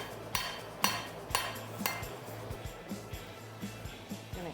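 Hammer strikes on a railroad spike being forged into a knife, a steady series of about nine ringing metallic blows, sharp and close, spaced roughly half a second apart and gradually softening.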